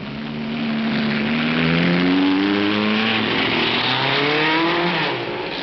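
1958 Formula One cars, a BRM and a Vanwall, at Spa-Francorchamps: loud engines rev and accelerate together, rising and overlapping pitches climbing through gears, swelling close then easing slightly, no voices.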